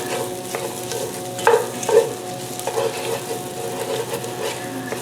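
Cabbage is stirred around in a pot while smoked pastrami cooks, giving a soft steady sizzle with light scraping clicks of the spoon against the pot, close and moderately quiet, with no talking.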